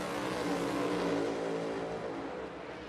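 NASCAR Cup race car accelerating out of turn 2 at Indianapolis Motor Speedway, a loud, sustained engine roar that builds and then slowly fades as the car pulls away, no talking.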